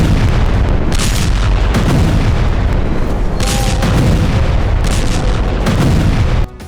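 Explosions along the Lebanon border: a steady, dense roar of distant heavy blasts and rumbling booms, with sharper bursts recurring every second or two, loud and continuous until an abrupt cutoff near the end.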